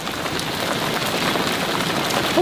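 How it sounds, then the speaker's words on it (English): Heavy outdoor rain pours down in a dense, loud, continuous hiss of drops striking surfaces, steady throughout with no voices. "Yeah, it's really raining."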